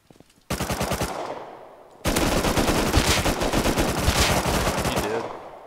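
Rapid automatic gunfire in the Rust video game, a short burst followed by a longer sustained volley of loud, close shots in quick rhythm.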